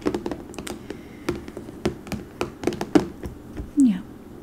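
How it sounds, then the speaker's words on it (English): Beads are handled and sorted into a new container, producing a run of sharp, close clicks, taps and small rattles at an uneven rhythm, with a quiet voice briefly murmuring near the end. "Thought the bead sounds would be nice for people."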